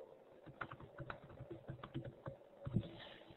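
Soft, quick typing on a computer keyboard, a close but faint run of irregular key clicks lasting a few seconds with no talk.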